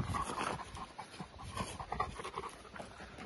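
A dog pants softly and rapidly nearby, quick rhythmic breaths that continue throughout with a faint whimpering tone mixed in.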